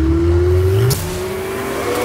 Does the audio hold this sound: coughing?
no